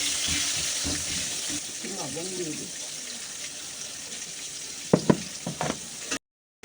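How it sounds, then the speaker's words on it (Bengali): Potatoes fry in a pan at home with a soft, steady sizzle, accompanied by a few clinks and scrapes of stirring toward the end, while someone speaks briefly over the sound. "আগে আলুটা একটু ফুলটা ভাজা ভাজা করে নিই"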